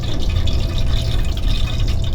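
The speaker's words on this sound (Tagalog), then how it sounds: "Pag pinapatakan ko ng tubig yan, magre-react siya ng mahina." Water drops hit frying oil that is only moderately hot, giving a continuous close crackle and gentle sizzle for a couple of seconds with no talking.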